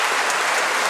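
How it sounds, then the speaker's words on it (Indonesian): A church congregation at Christmas Eve mass applauds the choir, a brief, loud, dense burst of many hands clapping together in a reverberant hall. "Kita tepuk tangan untuk mereka."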